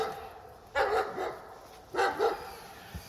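Dogs tied up beside a trail near Ukhta in the Komi Republic in late October bark in two short bursts, moderately distant, over a quiet outdoor background.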